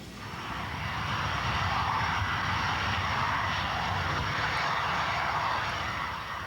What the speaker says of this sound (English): Their Jaguar, XX-145, begins to roll along the long Boscombe Down runway for takeoff